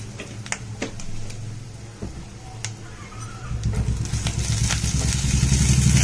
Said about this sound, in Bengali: নারকেলটাও একটু লাল করে ভেজে নেব